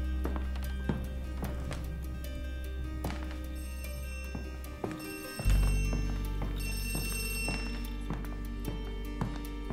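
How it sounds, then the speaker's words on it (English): Telephone ringing inside a VR horror game, a bright repeated bell that keeps going for several seconds against a steady low hum, moderately loud and with no talking. "Is that a phone?"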